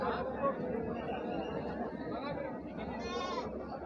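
Goats at a crowded livestock market in Aurangabad bleat amid continuous crowd chatter, with one clear, wavering bleat standing out near the end.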